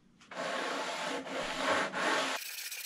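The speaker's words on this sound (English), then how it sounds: "take my sanding beam, and I'm gonna run it over this, and that'll help smooth out some of those high spots" Steady abrasive rubbing of a sanding beam across guitar wood, continuous strokes with brief pauses, close and fairly loud, no talking.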